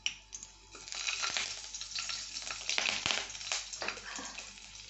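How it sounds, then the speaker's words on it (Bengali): Slit green chillies hit hot oil in a pan and sizzle and crackle, with sharp pops and stirring clatter over a fairly quiet, steady frying hiss, close by and without talk. "তেল এসে গেছে, আমি কাঁচা লঙ্কা চেরা দিয়ে দিলাম"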